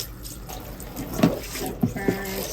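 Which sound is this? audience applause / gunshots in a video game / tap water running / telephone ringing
tap water running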